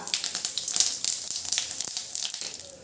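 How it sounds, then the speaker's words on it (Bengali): Whole cumin, dry red chillies and bay leaves hit hot oil in a pan, giving a close, crackly sizzle of small irregular pops and spits, with no one talking. "এই তেলের ভিতরে ফোড়নে দিয়ে দিচ্ছি গোটা জিরে, শুকনো লঙ্কা আর তেজপাতা।"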